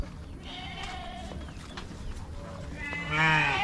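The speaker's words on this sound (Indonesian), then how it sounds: "kambingnya belum dikasih makan. Berisik teman-teman." Goats at a farm bleat noisily and repeatedly from close by, several animals calling over and across one another, with the loudest cries at the end, while they wait unfed.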